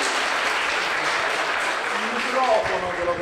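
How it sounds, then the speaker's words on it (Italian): Audience applause for Cesco at an Italian talk on gestures, steady dense clapping from a crowd with a voice speaking faintly over it near the end. "Un applauso per Cesco!"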